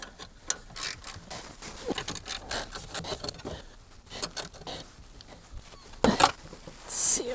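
A ratchet wrench fitted with a 10mm socket works a trunk bolt on a Toyota Prius, giving close, irregular bursts of clicking pawl ticks and metallic rattles with brief quiet gaps between them.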